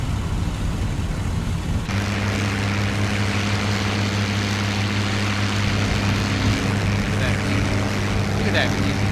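Propeller warplane engine in the combat flight game IL-2 Sturmovik 1946, attacking Pearl Harbor, a steady loud drone that jumps to a fuller roar as throttle opens for takeoff and holds at a constant pitch.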